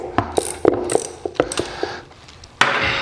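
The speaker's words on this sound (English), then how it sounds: "what you're gonna need is a 19 millimeter wrench, ratchet, or whatever you want to do that's in 19 millimeters, and remove the drain plug" A 19 mm ratchet loosens the oil drain plug on a Yamaha TW200 motorcycle, producing a close series of crisp metallic ratcheting clicks in uneven bursts, followed by a brief louder rasp near the end, with no talking.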